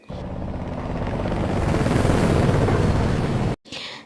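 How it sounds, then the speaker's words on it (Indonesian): A helicopter flies overhead: a loud, steady rotor roar rumbles for several seconds, rising slightly, then cuts off abruptly with a brief quieter noise after. "tak ada suara apapun selain helikopter yang mondar-mandir"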